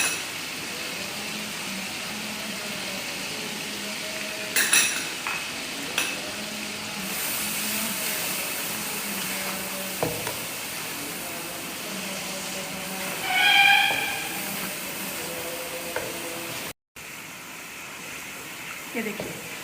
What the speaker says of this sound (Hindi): ये देखिए हमारा मसाला देखिए भुन रहा है अच्छे तरीके से।